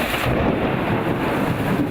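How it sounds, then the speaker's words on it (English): Heavy rain pours in a dense, steady roar during a thunderstorm, loud and continuous with a low rumbling wash underneath and no voices. "The storm came down hard,"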